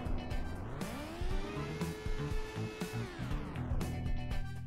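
A car in the Turbo Dismount video game roars with its engine revving up and holding high while tires screech and skid, broken by a few sharper crashing thuds, with no voices.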